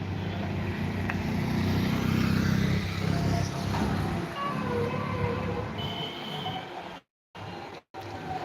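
A Leyland unloading truck pulls into the Guntur chilli market yard, a steady low diesel rumble close by, with lighter yard noise above it and two brief drops near the end.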